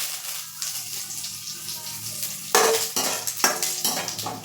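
Cumin seeds and curry leaves spluttering in hot oil, a low crackle that suddenly bursts into loud, bright sizzling with rapid pops as the leaves hit the pan, then settles into steady frying with a few stirs.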